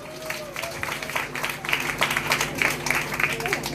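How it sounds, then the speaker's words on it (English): Graduates applauding themselves at a prep school commencement, crowd clapping building into a dense outdoor-sounding wash beneath a speaker's amplified voice. "Give yourselves a round of applause."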